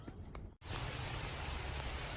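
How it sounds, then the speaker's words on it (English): Heavy rain pours down during a fishing trip as flooding begins, a dense, steady hiss that swells to a constant roar after a brief gap. "It's starting to flood, and we're about to get rained out."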